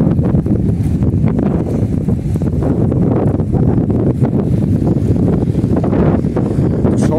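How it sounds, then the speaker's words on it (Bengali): Heavy wind sweeps across a riverbank as waves rise before rain, a steady loud low rumble of gusts battering the microphone with no one talking. "আমি দাঁড়িয়ে থাকতে পারতেছি না বাতাসের জন্য।"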